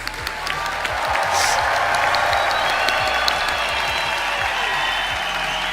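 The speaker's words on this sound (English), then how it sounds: "Can we give a big hand of applause to all the graduates?" Loud, dense applause from a large audience for graduates at a CEMS MIM graduation ceremony, a steady sustained roar of clapping with scattered cheering, holding at full level throughout.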